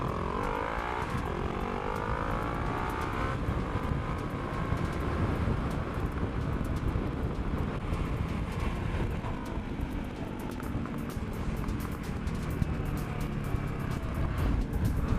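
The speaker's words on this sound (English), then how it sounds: "It's a bit more of a proper exhaust than the old one." A 2014 Honda CB500F motorcycle fitted with a new aftermarket exhaust, a continuous loud engine drone with rising and falling revs that holds steady throughout.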